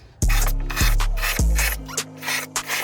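A drill bores pilot holes in a wall for drywall anchors, three short close bursts of grinding that each start with a sharp onset, followed by softer scraping and rubbing.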